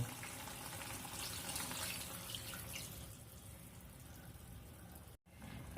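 Hot water poured from a cup into chicken curry in a pan, a steady pouring, splashing wash that fades out after a few seconds, with no talk.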